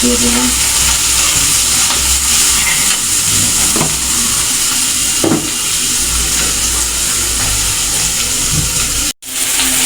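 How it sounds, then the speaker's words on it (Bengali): Prawns frying in a hot pan with salt and turmeric, a loud continuous sizzle and hiss with occasional stirring scrapes, close up and steady throughout. "চিংড়ি মাছটা খুব সুন্দর করে ভেজে নিয়েছি"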